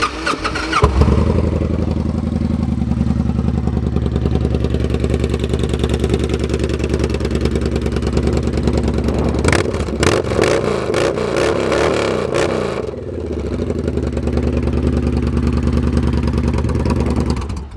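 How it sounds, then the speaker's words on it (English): A 2008 Victory 8-Ball motorcycle with low mileage starts up and idles with a steady, loud rumble, rising briefly into a rougher revving stretch before settling back to idle. "Bike runs great, guys."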